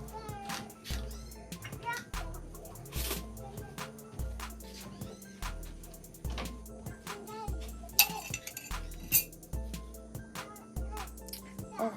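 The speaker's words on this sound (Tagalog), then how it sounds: "Timpla muna ako ng kape." A glass clinks as coffee is stirred, with repeated light tinkling taps and clinks near the microphone while a person talks over it.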